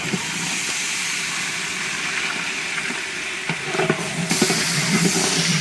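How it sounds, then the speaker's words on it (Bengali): Water is poured into a pan of frying onions and ginger-garlic paste to cook down the spice paste, giving a steady, loud broadband sizzle that swells and roughens toward the end. "এখন এই যে মশলা কষানোর জন্য পানি দিয়ে দিই।"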